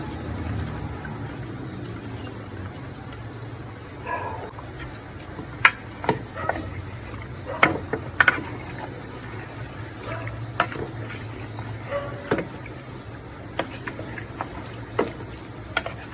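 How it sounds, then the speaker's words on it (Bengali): Raw onions sautéing in a pan give a low steady sizzle, broken by scattered sharp clicks and knocks from stirring. "ভালোভাবে কষাবো এবং কাঁচা পেঁয়াজ দিয়ে দিলাম"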